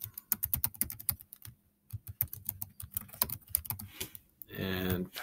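Someone types a school login email on a computer keyboard, producing rapid, close clicking keystrokes in uneven bursts with brief pauses, followed by a short rustling noise at the end.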